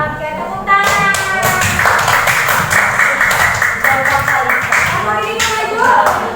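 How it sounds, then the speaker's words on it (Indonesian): Rapid, steady clapping from a class group close by, lasting several seconds with some chatter mixed in. "Oke, tepuk tangan."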